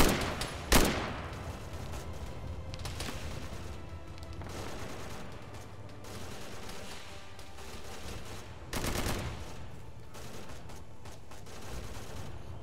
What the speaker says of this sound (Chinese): 听到好像那边有很多敌人的枪声，但是没看到敌人。